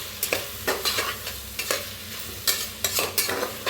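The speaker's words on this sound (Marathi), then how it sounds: "चांगलं तर भाजून घेऊया" Chopped tomatoes with turmeric and red chilli powder frying in a pan, a close sizzle broken by repeated scraping stirs at an uneven rhythm, no voices.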